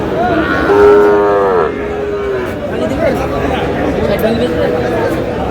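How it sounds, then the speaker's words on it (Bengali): A Sahiwal calf moos loudly near the start at a livestock market, a drawn-out call with a falling pitch, while crowd chatter and market hubbub carry on underneath. "শাহিওয়ালের বাচ্চা।"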